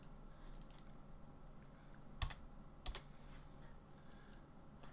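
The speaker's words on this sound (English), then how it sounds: "click onto 10, type in 10 mil" Keys tapped on a computer keyboard while entering values in design software, quiet and sparse with a couple of sharper clicks, heard alone without talk.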